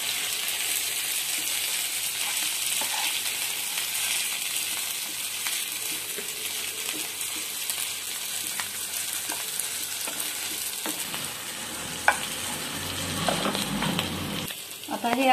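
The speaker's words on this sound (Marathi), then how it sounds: "हे चांगले आपण परतून घ्यायचे आहे।" A sweet dish mixture for Navratri is sautéed in a pan with a steady close sizzle and frying hiss, and a spoon scrapes and stirs it, growing busier near the end.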